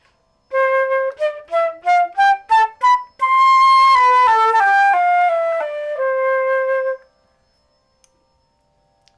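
Solo flute runs through scales, short detached notes stepping up, then smoother connected notes climbing and falling, clear and close before silence.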